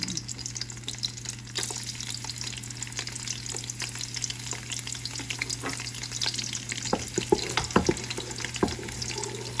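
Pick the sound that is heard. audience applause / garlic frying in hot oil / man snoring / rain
garlic frying in hot oil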